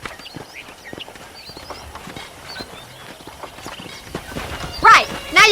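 Horse hooves clip-clopping in Red Dead Redemption: a steady, fairly quick rhythm of crisp hoofbeats at close range, joined near the end by a couple of louder bursts of other sounds.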